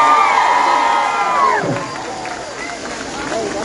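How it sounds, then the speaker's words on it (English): A crowd at a UTSA cheerleader and marching band event bursts into loud cheering and whoops, a sliding shout cutting through before the roar eases to a lower, sustained hubbub. "Cameron, how about you give an applause to the San Antonio?"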